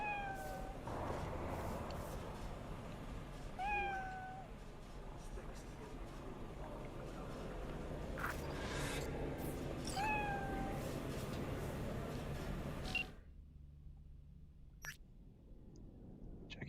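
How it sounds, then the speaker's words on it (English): A cat in the video game Cyberpunk 2077 meows several times, short rising calls over a soft ambient game background, with a quieter stretch near the end. "Is that a hairless cat? Is that a Siamese cat?"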